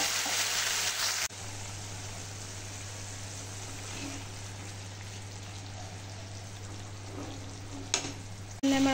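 Spice paste frying in a pan for a Bengali katla fish curry, a soft continuous sizzle with light crackle, louder briefly at the start and end, no talk.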